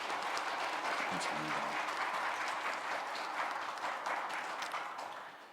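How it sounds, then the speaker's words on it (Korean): A church congregation at a Sunday service claps in sustained applause to welcome a new education staff member, dense and steady before fading at the end, with a brief word of thanks spoken over it. "이 시간 잠깐 축하의 박수,"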